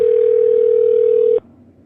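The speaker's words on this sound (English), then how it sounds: "You're going to hear, hopefully it's going to ring." A steady electronic telephone tone holds for over a second, then cuts off abruptly, leaving quiet background noise.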